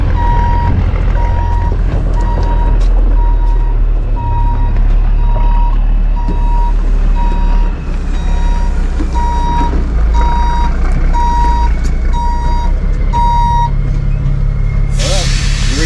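A gravel delivery truck backs in with its reversing alarm beeping loudly at a steady, even pace over a rumbling diesel engine, with faint voices in the background.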